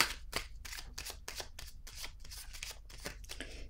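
Tarot cards being shuffled up close, a rapid run of crisp riffling flicks repeating in quick bursts for several seconds, fairly soft with no talking over it.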